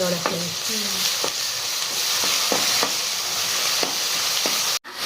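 Ginger-garlic paste being mixed and fried in a pan over medium heat gives a steady, close sizzle, with repeated sharp scrapes of a spoon against the pan and a brief clunk near the end.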